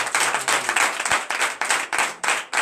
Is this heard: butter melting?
no